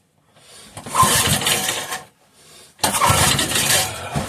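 A 5hp Briggs and Stratton small engine with gear reduction being cranked to start after fuel is added to the carburetor intake: two loud mechanical cranking bursts separated by a short pause, without the engine catching and running.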